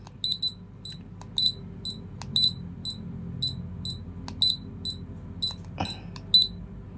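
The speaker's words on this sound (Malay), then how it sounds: "Beep alarm dia lah" A Greddy Sirius OBD2 LCD gauge sounds its alarm: a regular run of short, bright electronic beeps, near and clear over a low steady background hum, with no talking.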